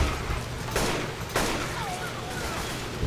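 Game gunfire from an AK rifle in Left 4 Dead 2, with a few sharp single shots standing out over ongoing background game noise.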